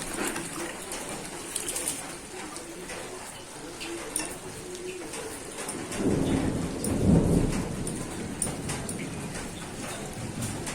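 Heavy rain pours steadily outside while thunder rolls in a deep rumble midway; birds coo faintly in the background.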